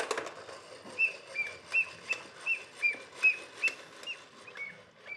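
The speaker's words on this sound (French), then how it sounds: "Et en plus, il siffle." A novelty gift object whistles in an office, giving a string of about eight short, high, evenly spaced chirping whistles that fade toward the end, fairly close and without talking.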